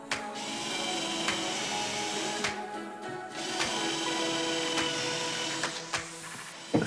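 A power drill bores screw holes into the back of a wall with a tape-marked bit, giving a steady, close whining drone that dips briefly a few times before resuming.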